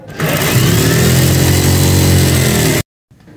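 A sewing machine stitches a 2-inch fabric strip for a kurti neckline, its motor running as a loud, steady whir close by for nearly three seconds before cutting off abruptly.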